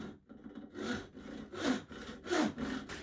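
A hand saw cutting a live edge wood slab, rhythmic back-and-forth rasping strokes, about six in a row, close and clear with no talk.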